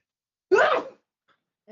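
A single sharp sneeze bursts out, close and clear, followed by a brief quiet and a faint voice starting.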